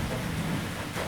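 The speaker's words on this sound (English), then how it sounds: "the tumultuous weather, the sound of the rain" Rain falls outside during a storm, a steady close wash of dense noise with a low rumbling undertone and no speech.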